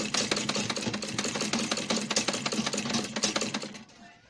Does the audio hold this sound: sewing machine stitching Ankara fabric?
yes